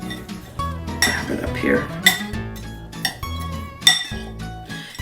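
Spoon clinks against a glass mixing bowl while pumpkin muffin ingredients are stirred, with repeated bright taps and scraping in an irregular rhythm, close and clear under a person's speech.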